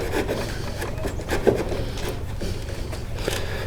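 A chisel scrapes around the edges of a door latch recess cut into the wood of an old door, a steady close rasping and rubbing with small irregular scuffs.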